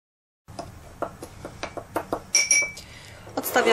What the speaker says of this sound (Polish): Mieszam dokładnie.